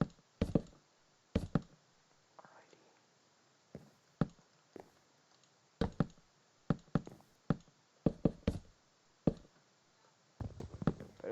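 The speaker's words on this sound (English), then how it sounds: "By the way, sorry for my mouse noise." A loud computer mouse clicking close by, sharp single and double clicks at irregular intervals over a faint background hum.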